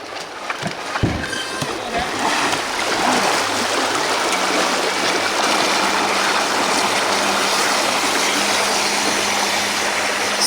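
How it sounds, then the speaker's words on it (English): The Streamline RC Thrasher V3 jet boat, 6s LiPo powered, churns water with a continuous rushing, splashing jet roar as its bilge pump discharges water, loud and close, after brief handling knocks at the start. "You can see the bilge just pumping that water out"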